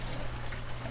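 Water flows steadily into a homemade Rubbermaid DIY sump filter for a saltwater tank, a soft continuous trickle and wash heard alone at low level.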